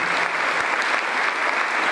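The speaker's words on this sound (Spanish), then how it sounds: "quiero pedirles un aplauso para nuestro pastor actual, Emerson Carrillo" A church congregation at a fiftieth-anniversary recognition service applauds its pastor, a continuous even roll of many clapping hands, moderately loud and unbroken throughout.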